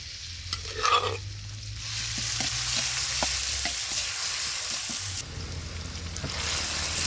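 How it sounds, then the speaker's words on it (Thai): Pounded garlic and lemongrass stir-fried in a pan, a dense continuous sizzle with repeated scraping strokes of the spatula, close and fairly loud. "กระเทียมตะไคร้นะครับต้องผัดให้นานๆหน่อย"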